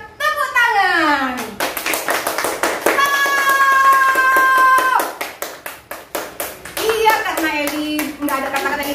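Children at an Indonesian church Sunday school clapping along in a follow-the-leader game, with rapid, rhythmic hand claps under a leader's sung and spoken voice.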